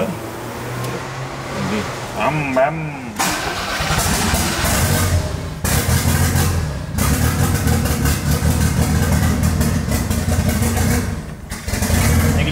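A car engine idles, then revs briefly with rising and falling pitch before settling into a steady, loud running drone while the throttle position sensor is checked; voices talk over it.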